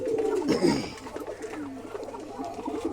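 Pet pigeons coo nearby in soft, throaty, rolling calls, strongest at first and then continuing more quietly with a few overlapping murmurs.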